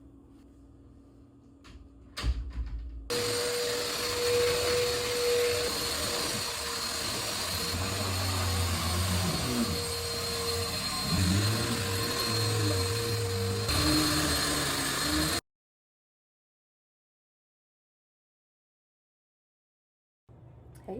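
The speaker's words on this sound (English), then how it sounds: "I am currently in the process of blow drying it" A hair dryer blow-drying freshly washed hair runs loudly and steadily close by for about twelve seconds, a whining airflow hum that shifts slightly as it moves, then cuts off abruptly into silence.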